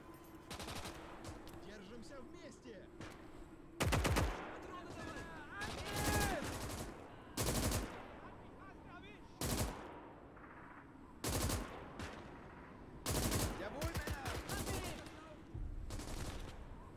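Gunfire in the WWII video game Gates of Hell: Ostfront, with sharp rifle and machine-gun bursts cracking out at irregular intervals over steady battlefield ambience, and voices talking in between.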